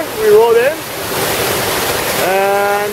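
Steady broadband rush of a waterfall beside an old mine entrance at the Ashlu Mine, loud and continuous, with people talking over it.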